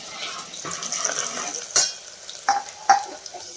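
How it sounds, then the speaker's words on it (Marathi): Onion frying for mutton rassa cooked over a wood-fired stove gives a light sizzle, with a few sharp utensil clinks and scrapes toward the end, close by and without speech. "हे कांदा चांगला फ्राय झाला आहे"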